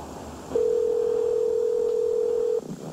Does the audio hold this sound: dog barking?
no